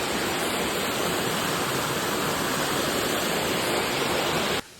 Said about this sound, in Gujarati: થોડો પાણીનો અવાજ આવશે